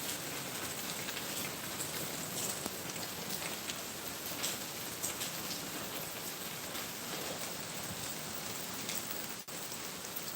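Heavy rain pours steadily during flooding in Puerto Plata, a dense, continuous hiss of drops hammering surfaces close by, unbroken for the whole stretch with no voices.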